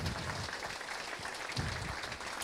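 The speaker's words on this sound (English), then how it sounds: "Let's give them a round of applause." Steady, dense applause from a luncheon crowd at a racing hall of fame induction ceremony, continuous and fairly loud throughout with no talk over it.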